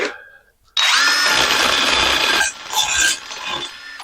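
A drill bit deburring a metal part for a 1961 unibody pickup makes a loud, harsh rasping grind. It starts abruptly after a short quiet gap, runs steadily, then eases into a couple of shorter scraping bursts.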